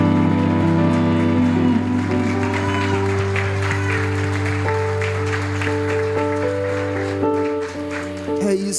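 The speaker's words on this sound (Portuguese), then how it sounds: "salva de palmas para Jesus" A church congregation claps for Jesus in a dense, sustained wash of applause over steady organ or keyboard chords, with a voice faintly present as the clapping carries on and fades slightly near the end.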